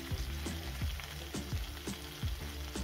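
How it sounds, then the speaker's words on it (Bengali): Chillies fry in oil over a low gas flame, a continuous soft sizzle punctuated by rhythmic stirring scrapes about every half second. "অবশ্যই কিন্তু গ্যাসের আঁচটা লোতে করে ভেজে নিতে হবে।"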